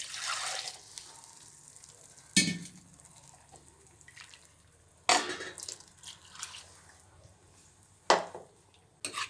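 Water poured into a mixer jar while making sambar for dosa, heard as a few short splashy pours with quiet pauses between them, close by and fairly soft.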